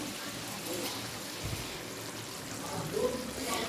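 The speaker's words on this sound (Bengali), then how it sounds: "এখন আমার চিকেনটা কষানো চলছে" Chicken fries as kosha in a pan, a faint steady sizzle under a voice talking, with a few soft clinks of a spoon against the pan.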